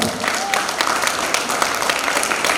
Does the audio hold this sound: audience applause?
yes